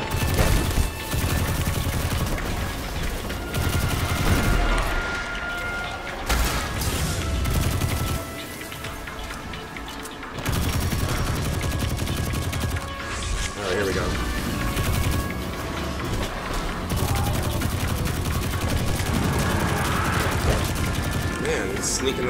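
In the video game Destiny 2, enemy gunfire pelts the player in dense, sustained bursts with mechanical clatter and crashes, loud and near, while a voice talks intermittently over the barrage.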